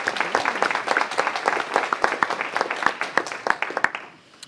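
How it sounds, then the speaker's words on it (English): A crowd at a council meeting claps steadily for several seconds, dense overlapping claps that taper off toward the end. "Everyone give them a round of applause for coming out."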